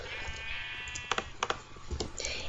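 Sheep in a blocky building video game bleat a few times, short wavering cries heard close and moderately loud over a low steady background hum, with no talking.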